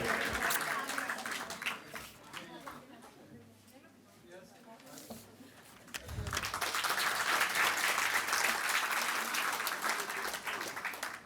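Audience clapping at an award ceremony, loud at first, thinning to a quieter patch midway, then swelling back to full, steady applause; crowd noise blends throughout.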